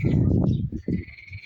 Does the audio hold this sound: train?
no